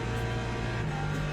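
Steady engine drone of a BMW race car in the Le Mans Ultimate racing game at Sebring at night, a constant mid-level hum with no clear revving changes, heard alone.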